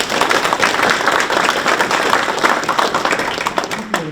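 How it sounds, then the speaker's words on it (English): Audience applause at a morning community forum, a steady dense wash of clapping held loud throughout and fading slightly near the end. "Let's give them a big round of applause."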